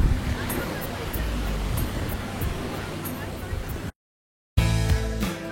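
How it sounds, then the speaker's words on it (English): Steady surf and wind roar at a beach, broadband and continuous, broken by a brief dropout before the waves resume loud and close. "Perfect for the ambiance here at the beach."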